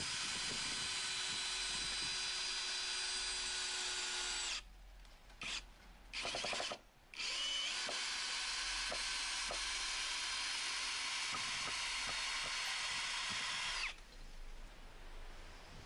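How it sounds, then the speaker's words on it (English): A Ferrex Pro 40v brushless cordless combi drill drives screws up to 100mm long, whining loudly in long bursts with a few brief pauses between runs, then dropping to a lower, rougher tone near the end; no one speaks. "going up to a fairly large 100mm screw, and it made light work of all of these screws, no problem at all"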